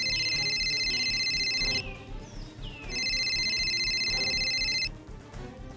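An electronic telephone ringtone trills in two long, loud bursts separated by a short gap, its bright warbling tone standing alone with no talking.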